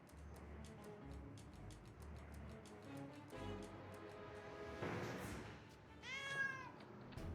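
Cat meowing in a Sherlock Holmes video game, a series of clear, close meows alone, rising and falling in pitch, with one longer drawn-out call near the end.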